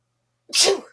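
One sudden, sharp human sneeze, close and loud, bursts out after a moment of silence and fades quickly.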